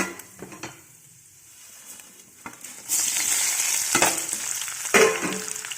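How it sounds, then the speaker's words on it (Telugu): Urad dal, garlic, tamarind and coriander seeds dropped into hot oil, first quiet then bursting into loud close sizzling and crackling with stirring and spoon scrapes. "ఇప్పుడు ఆయిల్ కాగింది, ఇందులో ఒక్కొక్కటిగా వేసుకుందాం."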